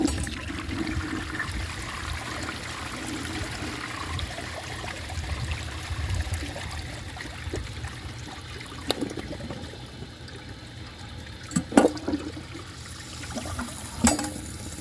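A 1968 Montgomery Ward Waco toilet flushes a washcloth and a grocery bag, a steady watery rush running throughout, close and fairly loud, with a few sharp clunks and gurgles near the end.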